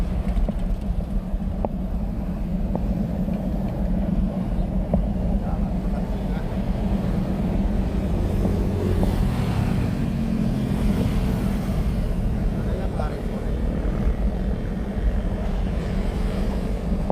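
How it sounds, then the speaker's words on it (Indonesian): Busy evening traffic of motorcycles and cars on the main road Jalan Basuki Rahmat, kilometre 8 to 10, in Sorong, Southwest Papua, forms a continuous dense roar of passing engines, with a voice faintly audible over it. "aktivitas kendaraan motor maupun mobil itu banyak sekali"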